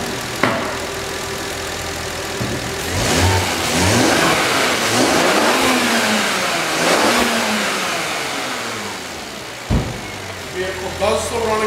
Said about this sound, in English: we're just going to rev the vehicle a little bit just so you can hear exactly how it sounds